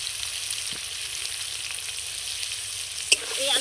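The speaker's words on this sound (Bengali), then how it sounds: "এই আলুটাও খুব সুন্দর আমি লাল লাল করে ভেজে নেব" Potato pieces seasoned with salt and turmeric fry in a pan, a continuous gentle sizzle and hiss with one brief clink of a utensil near the end.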